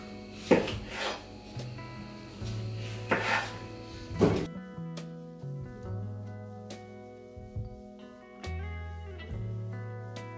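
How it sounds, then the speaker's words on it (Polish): A knife cuts through about a kilogram of tomatoes, splitting them into quarters on a board, with a few sharp close chops followed by softer taps and clatter against a quiet background with musical tones. "Mamy tutaj około kilograma pomidorów, dzielimy je na 4 i wrzucamy do naczynia żaroodpornego."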